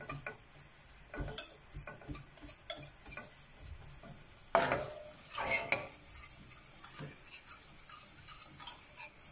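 Flour and butter being stirred into a white roux in a pan on the stove: a spoon scrapes and taps against the pan with soft sizzling underneath, irregular strokes building to a louder scraping stretch midway, no voices.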